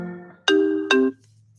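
A phone rings with two loud electronic tones in quick succession, the second ending abruptly, with faint tones before it.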